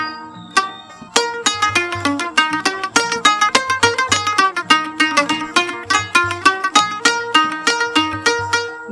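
A panting, the plucked Banjar lute, plays the traditional lagu sisep in a quick, bright run of picked notes over a recurring low drone, close and clear with no voices.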